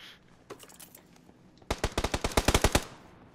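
Gunfire in the PUBG video game on PS4: a few scattered, fairly distant shots, then a rapid close burst of about a dozen sharp automatic reports.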